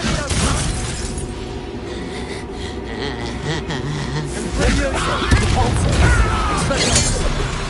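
Confringo blasting spell impacts in Hogwarts Legacy, a dense crackling, shattering barrage of magical blasts and debris that runs loud and continuous, swelling near the end.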